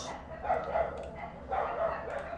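Dogs barking in the background of an indoor English lesson, two bursts of muffled barks about a second apart, moderately faint.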